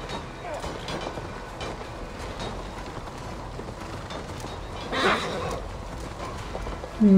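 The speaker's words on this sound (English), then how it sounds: "Mount's not available, but I've got a horse here." Horse ridden in the video game Assassin's Creed Valhalla, soft rhythmic hoofbeats with a brief whinny-like burst near the end, heard beneath game sounds and a man's speech.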